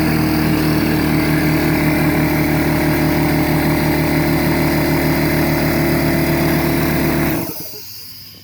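An air compressor runs loud and steady, pumping up pressure with a rumbling, throbbing drone, then cuts off and winds down near the end.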